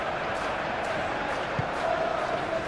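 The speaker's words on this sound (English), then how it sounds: "the crowd are reacting to that now" A crowd in a football video game simulation, West Ham United against Manchester United, rumbles in a steady, distant murmur of voices with a slight swell toward the end.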